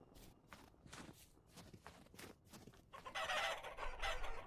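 Hens clucking in the survival video game Vintage Story, several close clucks and crowing calls alongside footsteps, quiet and without speech.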